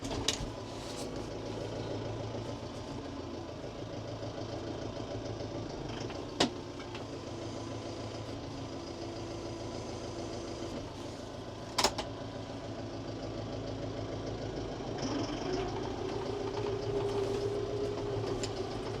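A large farm tractor engine runs steadily at idle, a low continuous drone, with a couple of sharp clanks standing out above it partway through.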